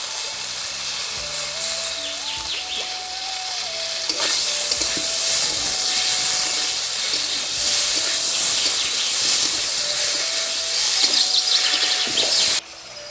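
Onion paste and cumin paste sizzle in a pan for a bata fish curry with potato and drumstick, a loud, steady close hiss with occasional stirring scrapes throughout.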